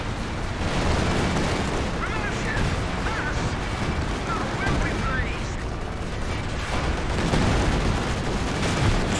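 Strafing gunfire in the World War II strategy game Company of Heroes 2 forms a continuous dense battle din of rattling shots and booms, with a commentator talking over it throughout.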